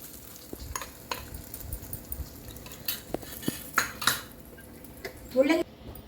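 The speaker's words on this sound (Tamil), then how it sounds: "இதை அப்படியே சட்னியில் கொட்டிடலாம்" Curry leaves and asafoetida tempering poured into radish chutney, heard as a brief sizzle and clinks of a pan and spoon, with scattered stirring and utensil taps close by.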